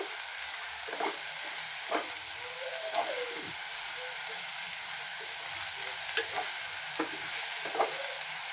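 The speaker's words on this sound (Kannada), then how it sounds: "ಇದ್ರಾಗಿನ ಹಸಿ ವಾಸನೆ ಎಲ್ಲ ಹೋಗೋತನ ಚಂದ ಫ್ರೈ ಮಾಡ್ಕೋಬೇಕು ಮೀಡಿಯಮ್ ಫ್ಲೇಮಲ್ಲಿ ಇಟ್ಟೀನಿ ನಾನು" Sprouted legumes fry in a pan over a medium flame, giving a steady close sizzle with a few soft scraping stirs of a spoon scattered through it.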